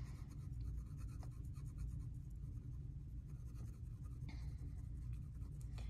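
Steady, close scratching of a pencil coloring on paper, continuous rubbing strokes with no talking.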